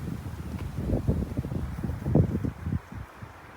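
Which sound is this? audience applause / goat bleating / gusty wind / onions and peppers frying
gusty wind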